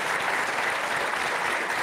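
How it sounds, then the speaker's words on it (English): Audience applause at a House Democratic town hall, a sustained dense wash of many hands clapping close and loud with no voices over it. "Give them another round of applause"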